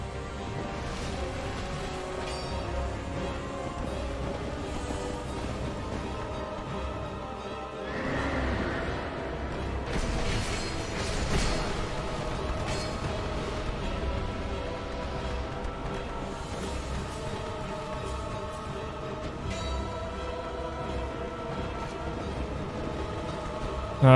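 Neighing, whinnying horse in the video game Dark Souls 2, with repeated snorts and clopping hooves over a continuous game ambience. Sustained and fairly loud, with no talking.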